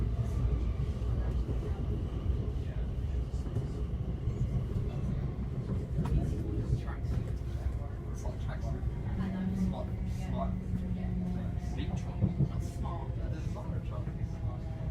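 Thameslink Class 700 Desiro City electric train running from London Blackfriars toward Gatwick Airport, with a steady low interior rumble and hum throughout, under faint nearby conversation.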